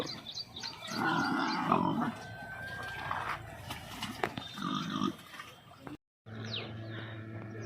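Low, rough pig grunts repeat in short bursts on a village pig farm, close and fairly loud, mixed with snorts and squeals, and a brief drop to silence near the end.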